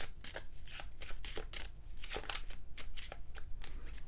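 A deck of chakra cards being shuffled by hand, a steady run of crisp riffling flutters and soft card slaps repeating close up, with no talking.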